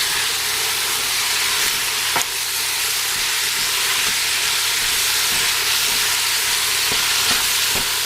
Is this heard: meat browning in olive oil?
yes